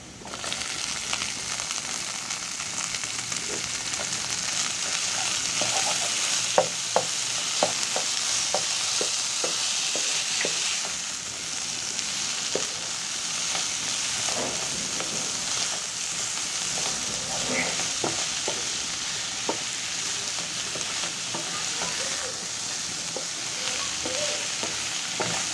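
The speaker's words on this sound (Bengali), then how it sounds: "ভালো করে নাড়াচাড়া করে ভেজে নিলাম।" Boiled kalmi greens are stirred into fried onions in a pan, a continuous loud sizzle broken by frequent scraping and tapping of the stirring spoon, close by throughout.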